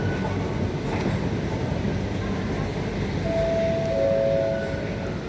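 Glasgow subway underground train rumbles steadily through the station, a continuous loud roar with a brief tonal whine late on; no one speaks.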